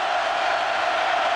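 Penn State stadium crowd roaring during a 2005 prime-time whiteout night game against Ohio State, a dense, sustained wall of cheering and yelling that stays loud and unbroken throughout the short stretch.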